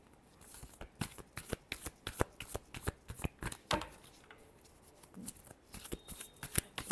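Tarot cards are shuffled by hand close up, a quick series of crisp riffling flicks and slaps in an uneven rhythm, with no talking.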